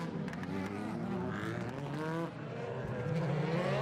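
DTM race cars circle the Spielberg circuit on warm-up laps, their engine notes rising and sliding in pitch as they pass. The steady, fairly faint drone continues throughout.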